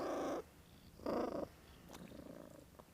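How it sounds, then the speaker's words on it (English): A cat purrs up close in loud rhythmic bursts, each rumbling breath separated by brief quiet pauses, alone without talk. "Purring."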